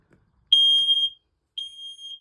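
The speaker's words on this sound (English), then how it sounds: "The hut is fitted with a smoke alarm" A hut's smoke alarm sounds two loud, shrill, steady electronic beeps close by, the first about half a second long and the second slightly shorter, separated by a short silence, with no talking.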